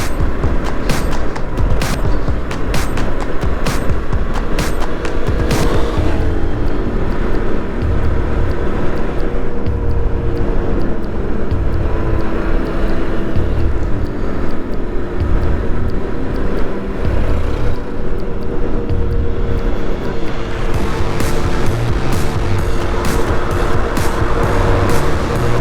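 Traffic on a road near Sullana in northern Peru, with motorcycles and taxis passing, makes a continuous loud engine and road rumble, several sharp passing bursts early on and again near the end, with no talk.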